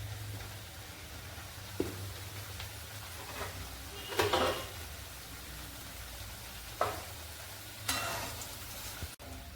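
Mathri dough pieces frying in hot oil over low heat, with a steady soft sizzle and a few sharper clinks of a utensil against the pan.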